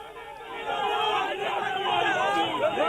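A large crowd at Sachin Pilot's farmers' rally fills the air with a dense, continuous roar of many voices shouting and chattering, loud and steady throughout.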